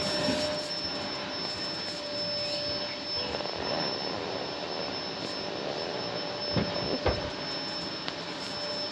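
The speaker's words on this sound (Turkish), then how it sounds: "süpürge sesi geldiği için çok özür dilerim arkadaşlar" A vacuum cleaner runs steadily, a continuous whooshing drone with a faint high whine, with no voices over it.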